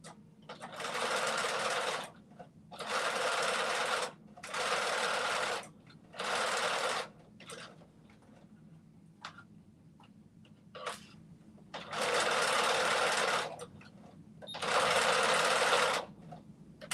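A home sewing machine stitches pleats in fast bursts of about two seconds each, with short quiet pauses between runs, close and loud with no talking.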